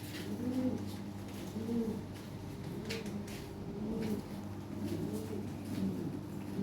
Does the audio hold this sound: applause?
no